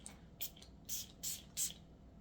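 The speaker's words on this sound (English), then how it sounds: "let me spray again now" Pink Sugar Creamy Sunshine body mist sprayed from a pump bottle, four short hissing spritzes at a steady pace, close by against a faint room hum.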